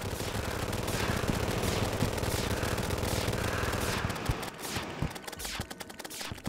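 Rapid automatic rifle fire from the Candy Corn Rifle in Terraria, a dense, loud, continuous stream of shots for about four seconds, then thinning into scattered separate bursts with gaps.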